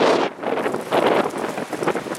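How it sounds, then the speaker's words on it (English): Strong coastal wind gusts in Santa Cruz buffet the microphone in loud, uneven whooshing bursts, rising and falling over a couple of seconds. "Oh, it's so windy."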